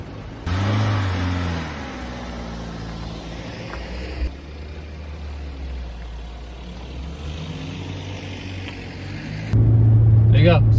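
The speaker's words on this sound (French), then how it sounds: "Le moteur, il est en pétard, les gars." A car engine revs and drones up close during an illegal street race between a BMW and an Opel, rising in pitch and swelling loud near the end while people talk over it.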